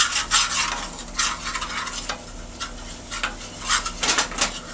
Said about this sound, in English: I'm going to stir that around and let the gravy